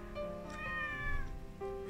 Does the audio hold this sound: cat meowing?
yes